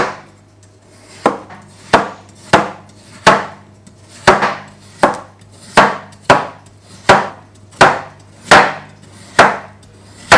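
A knife slices through potatoes on a cutting board: roughly fourteen sharp, evenly spaced chops ring out loud and close, each followed by a brief fading scrape.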